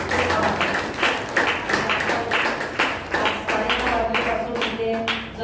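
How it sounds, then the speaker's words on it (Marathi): Audience clapping for Dada at an Independence Day programme, irregular claps mixed with murmuring voices and some talk, moderately loud and close. "तर दादांसाठी सुद्धा खूप खूप टाळ्या"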